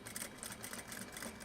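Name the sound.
sewing machine back stitching a zipper pouch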